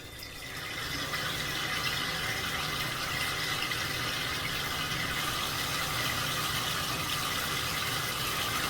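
Water runs steadily from a bathtub faucet after a repair, a continuous loud broadband rush that holds unbroken for the whole stretch with no talking over it.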